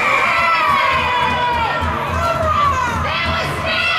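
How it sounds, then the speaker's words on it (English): Spectators at a 13U youth ice hockey game roar with loud, sustained cheering, shrill children's shouts layered over a dense crowd din that keeps going throughout. "My goodness, listen to this crowd."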